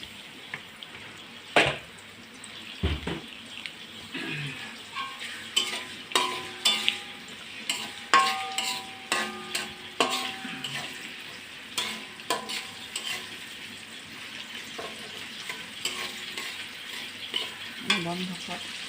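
Soybean oil sizzles in a pan while cooking pangas fish, a continuous crackle under repeated metallic clinks and scrapes of utensils, with a couple of heavier knocks early on, close and moderately loud, no speech.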